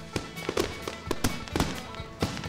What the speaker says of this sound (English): With music and a fantastic fireworks show after each and every Friday home game